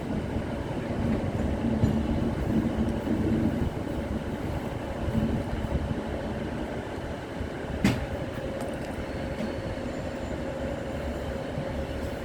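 An Avanti passenger train passes nearby with a continuous heavy rumble of wheels on rails, a faint clickety-clack, and a brief sharp metallic squeal partway through.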